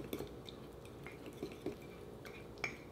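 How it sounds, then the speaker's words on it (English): Fork clinking and scraping against a mug while stirring chocolate mug cake batter, faint scattered metallic taps and soft wet stirring sounds close up, quiet and without talk. "come back in with the fork and let's give this a good mix"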